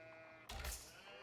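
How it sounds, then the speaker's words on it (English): A sheep bleats in a strategy video game, one short bleat rising over a steady in-game music and ambience bed. "There's two sheep here."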